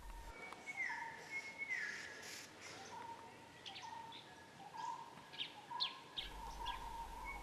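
Birds whistle and chirp repeatedly in a central Indian tiger forest in Kanha or Bandhavgarh National Park, over a dense, steady insect-like hiss, with several distinct calls rising and falling at moderate distance.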